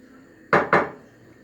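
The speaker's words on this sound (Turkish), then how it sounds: "Yüzgeçlerini kestik." Two crisp, sharp snips in quick succession as carp fins are cut, close up, with quiet room tone around them.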